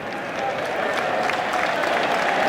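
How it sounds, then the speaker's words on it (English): A cricket crowd at an England v Pakistan Test match roars and applauds as a wicket falls, a broad swelling cheer that builds and holds, with a commentator speaking over it. "Roar from the crowd."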